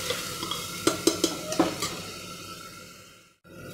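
Onion paste cooking in a pan, a soft sizzle under several quick scraping knocks of a spoon stirring against the metal, then the sizzle fades before returning briefly.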